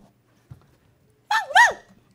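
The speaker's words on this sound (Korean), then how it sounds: "삼칠아, 한번 짖어봐." Pet dog barking on command, two quick high yips close together after a quiet pause, with faint soft movement noises earlier.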